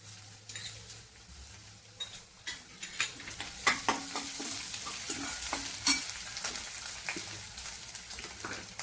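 Onions browned to reddish with ginger garlic paste sizzle and fry in a pan for a paneer tikka masala, a steady sizzle broken by repeated scraping stirs, close and fairly quiet, with no talk.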